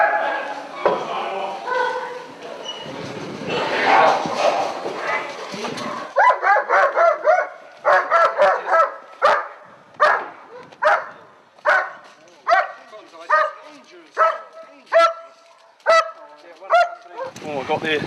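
A police dog barks in a steady run of sharp, loud barks during a stairwell arrest, with voices and scuffling noise in the first few seconds before the barking repeats at a regular rhythm.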